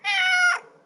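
A cat named Shadow lets out one loud, clear meow, close and alone, lasting about half a second before fading into quiet.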